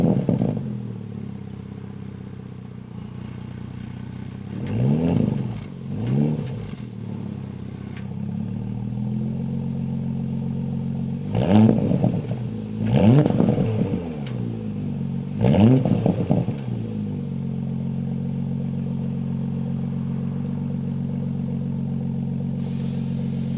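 A Porsche Panamera 4 Turismo driven on public roads, a steady low engine hum inside the car that swells several times with revving acceleration and gear changes, heard alone.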